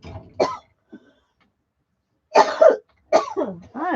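Several sharp, dry coughs come in short bursts close to the microphone, with quiet gaps between them, from a woman in a room.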